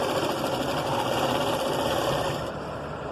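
A sewing machine stitches a seam on a six-year-old child's blouse, a steady, close, fast mechanical whirring that runs without pause and softens slightly near the end.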